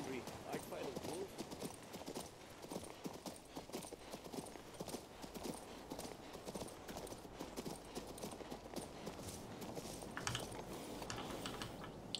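A horse's hooves clip-clop at a walking pace in King's Bounty 2, a steady rhythmic clatter through the whole stretch, mixed with someone talking and keyboard typing.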